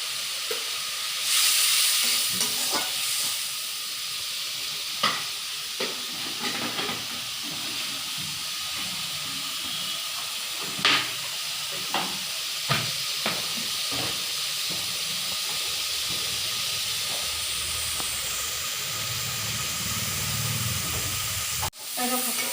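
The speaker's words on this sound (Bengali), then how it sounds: "আমার মশলাগুলো সুন্দরভাবে ভাজা হয়ে গেছে তেলও ছেড়ে দিয়ে দিয়েছে" Spice masala frying in oil with prawns, a steady hissing sizzle close by, broken by occasional stirring knocks and scrapes of the utensil.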